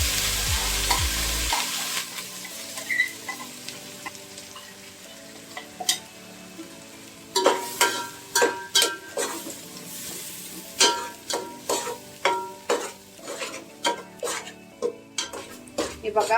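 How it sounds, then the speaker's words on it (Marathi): Ground masala for spicy Maharashtrian misal sautés in a pan over cumin and mustard seeds, sizzling softly while a spoon scrapes and knocks against the metal in repeated strokes that grow louder and quicker toward the end. "हे बघा आपला मसाला आपण परतत आहोत"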